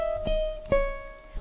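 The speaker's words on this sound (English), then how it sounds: "The tardy bell, which sounds like this," A school tardy bell sounds as a faint, thin sustained electronic tone, broken by a couple of soft clicks and brief pauses, quiet and short with no talking.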